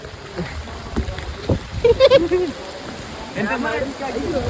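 Steady rain hisses throughout, with a voice speaking briefly in the middle and faint splashes near the end.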